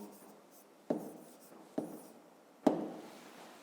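A pen writes a number on paper during a fifth-grade maths exercise, three short distinct scratching strokes spaced about a second apart, close and fairly quiet with no talking.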